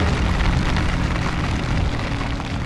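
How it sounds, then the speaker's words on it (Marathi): Heavy monsoon rain on the Mumbai–Goa highway pours steadily as a loud, dense, unbroken hiss and patter, filling the whole clip with no voices. "एवढा जोराचा पाऊस चालू झालाय बघा."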